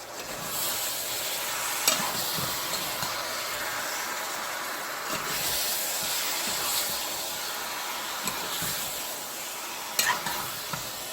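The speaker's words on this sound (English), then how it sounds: "Let me just stir this pot again." A pot of Trinidadian stew pork ribs with red kidney beans is stirred, giving repeated scraping strokes against a steady bubbling sizzle, close and fairly loud with no speech.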